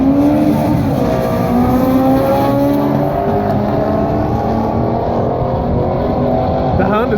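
A Honda and a Dodge Charger racing, with loud, close engine roar and revving that rises in pitch as the cars accelerate, steady throughout.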